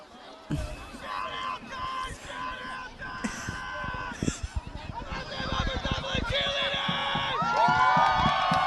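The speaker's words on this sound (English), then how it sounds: "And the crowd giving a nice cheer for the cheerleaders." A crowd at a high school football game between Upper Dublin and Hatboro Horsham cheers for the cheerleaders, rising from scattered whoops and thumps to sustained cheering mixed with voices and chatter.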